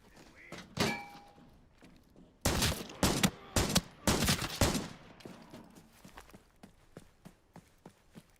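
Gunfire in a first-person shooter video game comes as sharp, loud bursts of several rapid shots in a cluster, then trails off into scattered thuds and footsteps.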